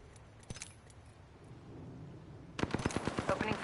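Gunfire in the Apex Legends video game: a single crack and a few faint shots, then a rapid automatic burst of close, loud shots in quick rhythm filling the final second.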